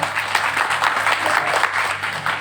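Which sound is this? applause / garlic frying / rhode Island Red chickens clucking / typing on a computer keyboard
applause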